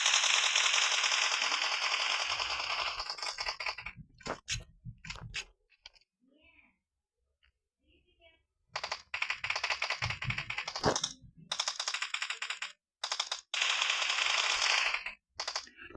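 Gunfire in the PUBG Mobile video game: dense, loud bursts of automatic fire with abrupt gaps and a few isolated shots, blended with game noise.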